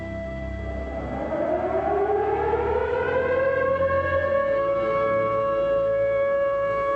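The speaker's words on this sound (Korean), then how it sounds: "통금 사이렌이 우리 일상의 매정한 마침표로 울리면" A civil defense curfew siren in Korea, the kind that marked nightfall from the postwar years into the 1980s, winds up from a low growl into a loud, sustained wail that holds steady and alone.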